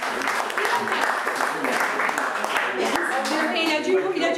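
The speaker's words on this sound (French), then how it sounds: "J'aimerais qu'on les applaudisse bien fort." Audience applauding at a general assembly, a steady wash of clapping hands throughout, fairly loud and close, with voices mixed in among the crowd.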